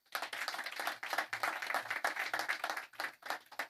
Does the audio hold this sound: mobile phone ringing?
no